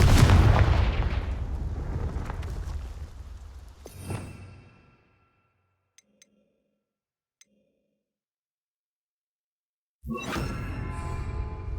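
Confringo fire spells burst in the video game Hogwarts Legacy, a loud booming blast with a whooshing tail that fades out, a few faint ticks in near-silence, then another burst at the end.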